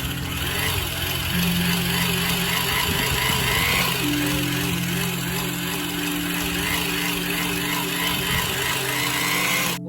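An electric drill mixer churns wall putty for a first coat over plaster, giving off a steady loud motor whine with a slight pitch shift partway through, running continuously.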